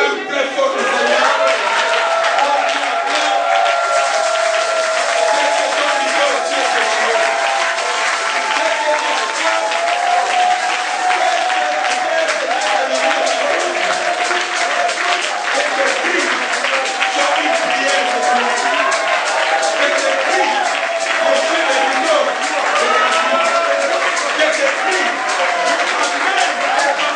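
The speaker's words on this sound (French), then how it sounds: "acclame très fort le Seigneur." A church congregation loudly applauds and cheers for the Lord, with dense, continuous clapping and voices shouting together for the whole stretch, steady and full without a break.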